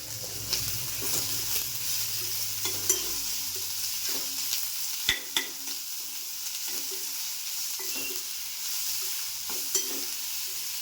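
Onion sautés in a pan for benne dosa, a soft continuous sizzle broken by occasional scrapes and taps of a stirring spoon against the pan, close and fairly quiet with no talking.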